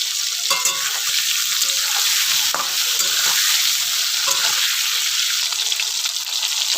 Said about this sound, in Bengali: এঁচড়টা ভাজা হয়ে গেছে, লাল লাল করে ভেজে নিয়েছি